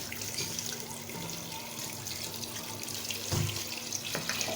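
Water pours steadily from a jug into a cooking pot while making mutton yakhni pulao, a continuous close rushing splash that swells briefly near the end.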